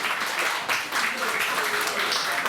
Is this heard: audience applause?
yes